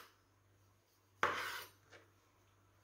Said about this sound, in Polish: Buraka pokroimy w kostkę.